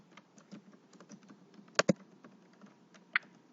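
Light typing on a computer keyboard while a folder name is entered, with steady soft key taps and a couple of louder strikes partway through, close and without speech.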